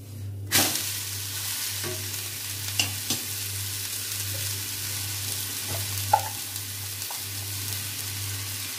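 Onion podi dosa cooking on a hot pan, a soft continuous sizzle over a low steady hum, broken by a few sharp clicks and light scrapes.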